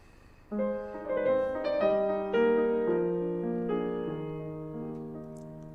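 A soft, lyrical excerpt of the sixth song of a Beethoven song cycle, a sustained vocal line over gentle piano accompaniment, slow and legato, no speech.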